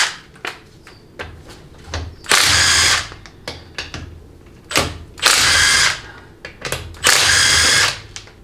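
A power tool removing the 13 mm pump-to-case bolts on a freshly rebuilt 700R4 transmission during teardown, with loud whirring bursts between ratcheting clicks and metallic clatter, close and without speech.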